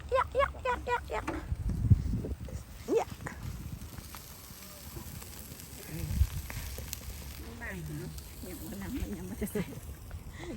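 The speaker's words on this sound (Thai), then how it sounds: "น้ำมันแมกสาดขึ้นทั้งหลังคา" Oil sizzles and spatters loudly as food fries, a dense crackling hiss running the whole time beneath people talking over it.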